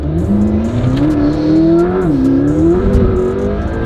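A car driving on brand new tires that are still cold, its engine droning steadily and rising and falling in pitch as it accelerates and eases off, loud and close with no talk over it.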